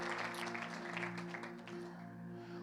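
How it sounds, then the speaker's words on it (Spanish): A church congregation applauds at a Wednesday worship service, a dense wash of clapping sustained throughout over a steady background of music or organ tones. "damos un aplauso"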